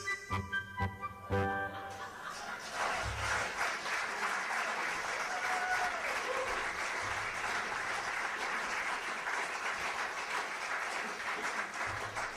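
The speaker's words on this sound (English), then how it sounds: "No applause sign needed there" A radio-theatre studio audience breaks into sustained applause that begins after a few loud opening claps and holds steady, dense and even, for the rest of the stretch.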